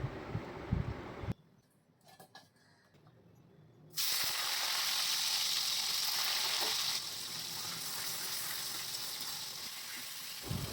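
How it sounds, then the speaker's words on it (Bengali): Potatoes frying in a pan in a Bengali home kitchen, a steady hissing sizzle that starts abruptly after a quiet stretch, then runs continuous and fairly close, easing slightly near the end. "আজকের আলু ভাজাটা বেশি কড়া করে ভাজবো না"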